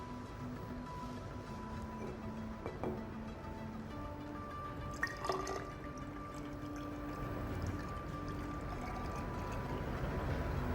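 Water pours steadily into a graduated cylinder during a school biology practical, a faint continuous trickle with a few small clinks over a quiet background.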